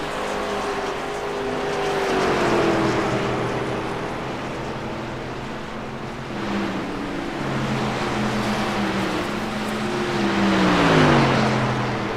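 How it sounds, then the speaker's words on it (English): A Chevy race truck engine on a Phoenix track drones loud and steady, its pitch rising and falling as it passes and shifts, with a broad roar of track noise around it. "He is running loud and proud with that Razor 99 Chevy."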